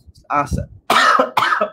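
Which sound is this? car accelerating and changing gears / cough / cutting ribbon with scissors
cough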